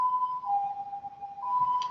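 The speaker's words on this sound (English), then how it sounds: "Why they got the siren blaring for?" An ambulance siren wails steadily, its tone dipping slightly and rising again, heard from a moderate distance over faint background rumble.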